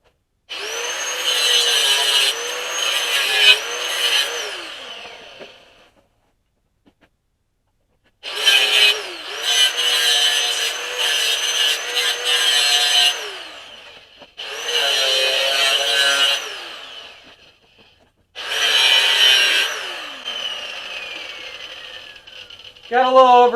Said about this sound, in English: You're going to grind all of those in so that you can get to it with the welder.